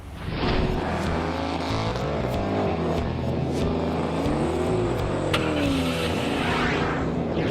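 A 1970 Plymouth Cuda convertible with a 440 engine and shaker hood scoop revs loud and close, its pitch climbing and falling through repeated throttle blips over a rumbling idle.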